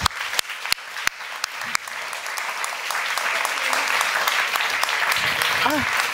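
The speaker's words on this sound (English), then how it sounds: "Give them a warm round of applause." Audience applause at a European literature night event, starting with a few sharp separate claps that swell into steady, full clapping, with voices and a brief whoop heard under it.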